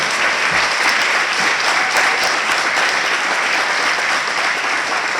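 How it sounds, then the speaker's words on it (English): A large audience at a community awards night applauds the Educator of the Year nominees, a loud, dense, unbroken roar of clapping lasting several seconds. "let's give a big round of applause to our nominees for Educator of the Year"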